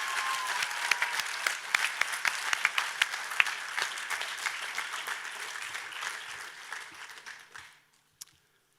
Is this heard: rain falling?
no